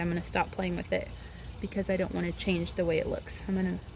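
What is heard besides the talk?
None of the usual background noises is heard.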